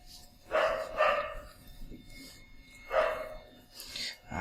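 Dogs barking at night, with a few loud, close barks in two bursts separated by a pause, heard alone without talk.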